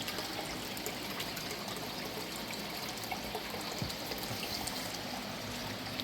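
Water poured steadily into a container to top up an indoor plant setup, about two gallons, a continuous soft trickling stream running unbroken at close range with no talk.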